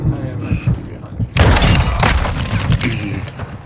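Gunfire erupts in a first-person shooter game, with a loud burst of booming shots and thuds starting about a third of the way in and continuing densely, while a voice talks over the action.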